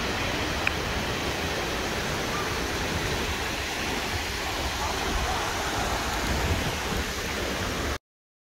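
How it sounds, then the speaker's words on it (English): Extremely heavy rain pours down at Ithaca Falls in a dense, steady hiss that runs for about eight seconds with no talking, then cuts off abruptly. "It started raining extremely hard"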